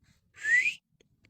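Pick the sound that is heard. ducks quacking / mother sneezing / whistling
whistling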